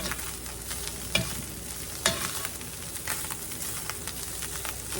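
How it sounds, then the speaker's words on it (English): Salt being stirred into a mixture in a pan for a tamale bake, with soft scraping and a faint sizzle running throughout and a couple of sharper clinks of the utensil against the pan, close and fairly quiet. "You stir that around in it. Get it mixed up a little bit."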